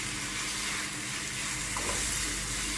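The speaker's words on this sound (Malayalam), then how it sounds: "ഇതൊരു 2 മിനിറ്റ് ഇളക്കി കൊടുക്കുക." A cassava peel thoran with crushed coconut, onion and chilli is stirred in a pan, giving a soft, steady sizzle with faint scraping throughout.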